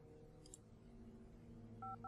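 DTMF keypad tones near the end as a phone number is dialed in the video game Geheimakte FBI, two short clean beeps over a steady low background hum.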